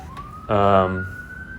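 An emergency vehicle siren somewhere in Hawaii holds a steady, faint wail in the distance while a voice speaks briefly over it in the foreground.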